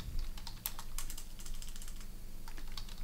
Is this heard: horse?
no